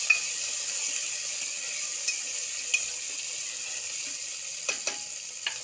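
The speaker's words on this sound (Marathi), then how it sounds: "आणि आता हे परत एकदा व्यवस्थितरित्या मिक्स करून घेणार आहे" A spoon scraping and stirring sambar with tomatoes and drumstick pieces in a pot, soft occasional clinks over a steady sizzling hiss, fairly quiet and close.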